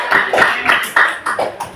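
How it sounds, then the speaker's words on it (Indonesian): A class claps briefly, a quick run of irregular hand claps close by lasting under two seconds. "Tepuk tangan dulu."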